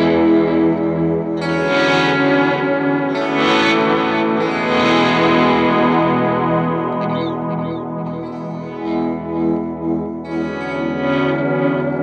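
A TC Electronic Alter Ego X4 delay pedal on its Space Echo preset, with sustained guitar notes swimming in heavily modulated, repeating tape-style echoes and a long reverberant tail, loud and continuous with no talking.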